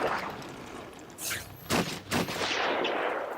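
Sniper gunfire in the video game Batman Arkham Asylum: three sharp, loud shot bursts about half a second apart, each with a short crackling tail, over a steady background hiss.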